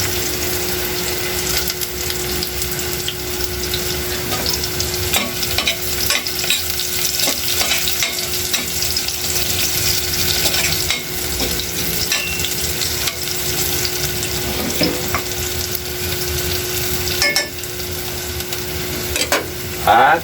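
Tuna red meat being sautéed and stirred in a frying pan while browning, a dense, continuous close sizzle with frequent scraping and stirring clatter throughout, accompanied by a steady low hum.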